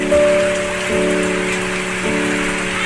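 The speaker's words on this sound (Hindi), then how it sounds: "और बारिश तो हो ही रही है, रोड भी गीली हो चुकी है।" Steady rain falls on a wet road and open fields in Nepal, a continuous even hiss with a constant tonal hum running underneath.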